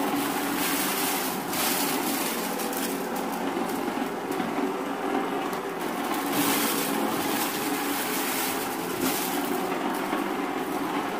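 A Silvercrest rechargeable floor sweeper vacuum runs close by with a steady, loud, unbroken whirring drone that holds at an even level throughout.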